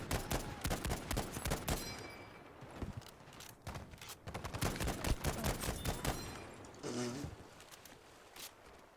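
M1 Garand rifle fire in the Battlefield V multiplayer shooter, with dense, repeated loud shots, some in quick bursts, mixed with other battlefield gunfire and a brief voice near the end.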